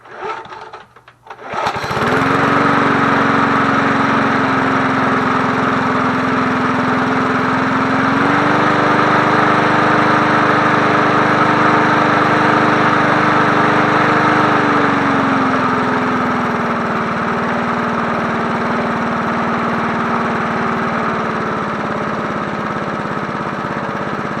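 1980s John Deere push lawn mower engine started on choke: a brief pull, then a loud, close, steady running drone whose pitch shifts up and back down before settling into an even idle.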